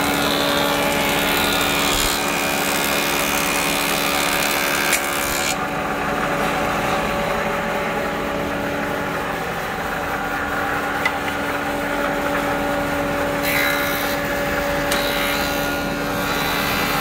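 A wood planer machine running on timber in a Jepara workshop, a loud continuous motor whine and rushing cutter noise that holds steady throughout, with slight shifts as the wood feeds through.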